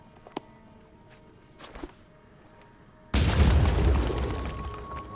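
A frag grenade blast in Phoenix Point, preceded by a few faint clicks and footsteps, then one loud, sudden explosion with a long, broad rumbling decay.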